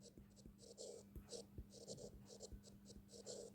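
Chalk or marker writing on a board during a mathematical physics lecture, heard as a steady run of short scratchy strokes with low room hum underneath.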